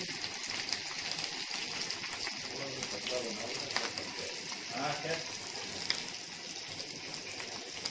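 Chapli kabab with a tomato slice on top fries in hot oil, giving a steady, even sizzle and crackle throughout, with faint talking now and then.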